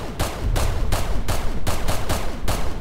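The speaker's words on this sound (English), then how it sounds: "I'm coming in shooting." Rapid, evenly spaced gunshots in the Janitor Bleeds video game, a continuous loud string of sharp cracks with no pauses.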